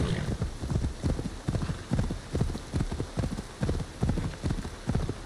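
Rhythmic horse hoofbeats clip-clopping at a steady trot in the video game Assassin's Creed Valhalla, evenly paced and fairly close, with no voices.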